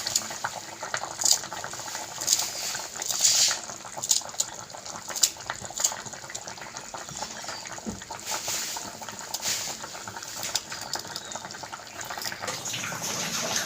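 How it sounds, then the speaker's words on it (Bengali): Bengali rui fish curry with ridge gourd, potato and coriander leaves simmering in a pot, a steady bubbling boil with faint clinks throughout at low volume. "ধনে পাতাটা দিয়েও ফুটিয়ে নিলাম একটু"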